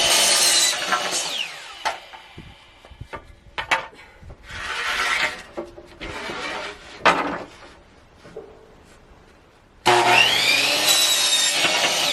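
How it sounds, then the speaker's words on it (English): A chop saw cuts through wood for a picture frame, with several loud bursts of cutting and whine separated by clattering handling noises and quieter gaps, ending in a sustained loud run. "Get to use the chop saw."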